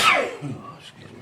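A single sharp sneeze at a county board of supervisors meeting, loud at onset and quickly fading into the room's quiet murmur.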